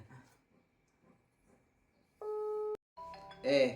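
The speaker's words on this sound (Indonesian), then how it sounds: "Belum diangkat tuh masih berdering" A phone call rings out unanswered, two steady electronic ring tones separated by a short gap, with faint murmuring before them and another sound starting after the second ring.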